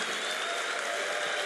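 A steady wash of applause from a church conference crowd, many hands clapping continuously at an even level, with no voice on top.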